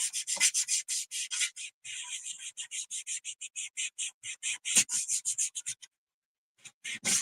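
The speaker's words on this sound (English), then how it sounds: "just a little bit of wax. We're just gonna wipe this on my surface." A cloth wipes wax onto the surface of an antique sign in a quick, steady series of soft scrubbing strokes, close and fairly quiet, pausing briefly near the end before a few final rubs.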